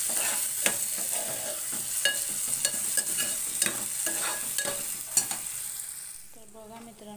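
Tomatoes sautéing in a pan for a prawn curry, a steady sizzle broken by regular scraping stirs of a spatula, close and fairly loud, fading near the end as the pan quiets.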